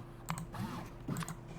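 Two short flurries of key presses on a computer keyboard, close clicky taps over a low background hum, with a brief faint murmur between them.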